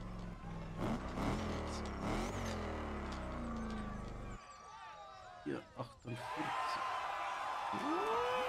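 A race car engine in a PS5 racing video game revs with steadily climbing pitch, then drops back to a lower drone while someone talks over it.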